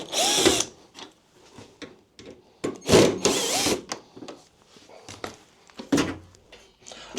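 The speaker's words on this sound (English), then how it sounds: "So sometimes I have to tap them to get them out." Short bursts of a tool working aluminium screws loose from a washing machine, several sharp whirring and knocking hits with quiet gaps between, close and loud.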